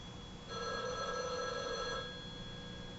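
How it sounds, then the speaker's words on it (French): A single ring of an old-style telephone bell, about one and a half seconds long, heard over faint room hiss. "Et le téléphone sonne."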